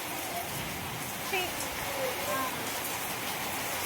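Rain falls on an outdoor village film shoot as a steady, dense hiss, with faint voices briefly surfacing in the middle.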